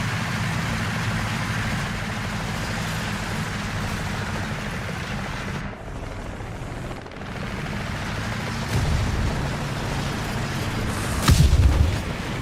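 Impacts and cannon fire hit an Object 279 heavy tank in War Thunder, with a continuous engine rumble, scattered blasts and a sharp heavy hit near the end.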